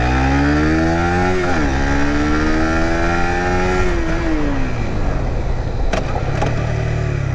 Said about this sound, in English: Yeah, very nice engine brake.